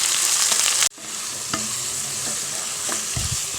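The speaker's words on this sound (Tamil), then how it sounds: "மஞ்சள் தூள், உப்பு போட்டு நல்லா பிரட்டியாச்சு" Chicken with turmeric and salt sizzles in a hot pan for a South Indian chicken gravy, with a sharp cut in the hiss followed by steady frying and a few scraping stirs of the spoon.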